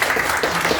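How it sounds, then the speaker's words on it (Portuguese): Audience applause for Taylor at a talk, a loud, dense burst of crowd clapping heard up close, steady throughout with no voices. "uma salva de palmas para ele."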